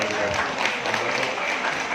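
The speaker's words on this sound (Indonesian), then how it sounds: "Tepuk tangan sekalian." Audience applause at a Nuzul Qur'an commemoration and haflah held at an Islamic boarding school, a dense continuous clapping texture of many people, moderately loud and even throughout.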